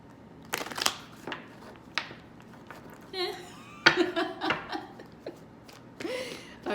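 A deck of tarot cards is shuffled with short, crisp riffles and taps spread across the clip, mixed with chuckles and light laughter nearby.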